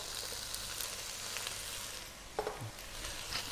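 Yellow and red peppers frying in a pan with salt and seasoning, a steady broad sizzle with a few louder spits and stirring scrapes near the end, no talk.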